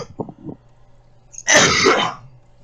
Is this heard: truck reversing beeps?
no